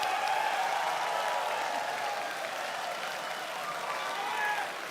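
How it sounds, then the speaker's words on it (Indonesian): An audience at a 2014 Indonesian presidential debate applauding, a dense continuous wash of clapping from a large crowd that holds steady for several seconds, with a voice faintly underneath. "Silakan tepuk tangan."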